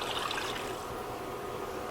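Water is poured into a pan holding chicken broth, onion and garlic, a quiet, even splashing trickle that runs steadily throughout.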